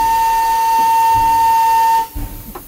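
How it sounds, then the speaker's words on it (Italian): The compressed-air whistle of steam locomotive 740 278 sounds one steady, sustained high tone for about two seconds, then cuts off, leaving a hiss and faint rumble behind. "Questo è il fischio aria compressa."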